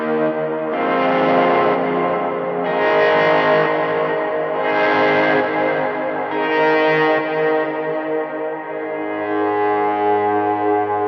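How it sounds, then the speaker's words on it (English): Gritty distorted ambient guitar swells from a MIDI-triggered patch, several slow, loud, overlapping rises fading into each other with echo and a lingering low drone. "He's even got grit swells that sound like this."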